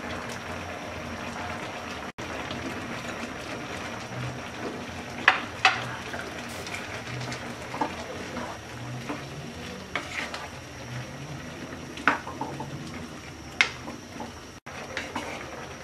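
Apples, green tomatoes and chopped onion simmer and gently sizzle in a pot for a green tomato sauce, with scattered stirring clicks and clanks of a utensil against the pot.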